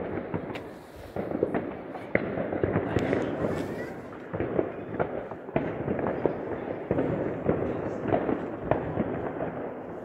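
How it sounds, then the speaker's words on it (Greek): New Year 2021 fireworks explode over Alexandria. Repeated distant bangs and crackling pops come at an irregular rhythm over a constant outdoor rumble, with what sounds like voices in the background. "Βλέπουμε στο βάθος τα βεγγαλικά"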